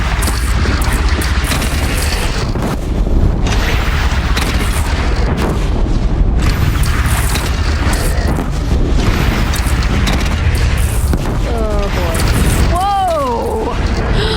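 A bridge is shot down in the video game Horizon Zero Dawn, giving a sustained, loud rumbling explosion with crashing debris that fills the whole stretch, with brief voices near the end.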